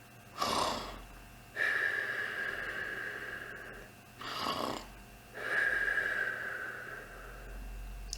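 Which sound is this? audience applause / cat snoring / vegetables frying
cat snoring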